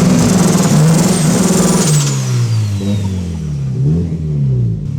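Turbocharged Honda Civic engine on a dyno with a two-step launch limiter, loud sustained revving with a rising turbo whine, then the engine falls and holds a stuttering, pulsing note as revs settle.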